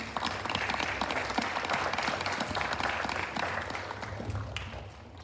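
An audience at a school board meeting breaks into steady applause for the students, a dense, continuous patter of many hands that tapers off slightly toward the end.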